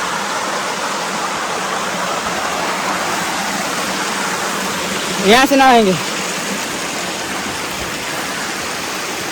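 Rajagiri Waterfall in Odisha roars as a loud, steady wash of falling water that fills the whole scene. A voice speaks briefly over the rushing water partway through.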